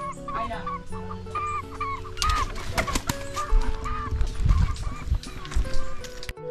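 Chickens cluck and squawk repeatedly nearby, with a rooster-like call and honking fowl mixed in, busy and fairly loud.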